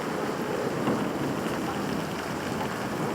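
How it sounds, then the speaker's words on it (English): Hail falls outdoors in a steady, dense patter of ice that holds an even loudness for several seconds, with no voices. "It's hailing out here."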